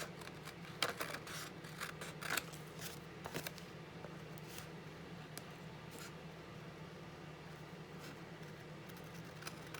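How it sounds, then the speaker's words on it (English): Scissors snip through a paper envelope flap in a craft setting, a quiet run of short crisp cuts and rustles, bunched near the start and thinning out over low room hum. "I'm just going to cut up along the flap"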